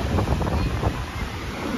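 Wind and surf at a white-sand beach near Fort Myers, Florida: steady broadband rush of wind buffeting the microphone with rolling wave noise underneath, close and continuous without clear talk.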